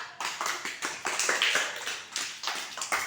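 A child claps hands in a steady run of about a dozen sharp, close claps with brief gaps, during a children's flower puzzle game.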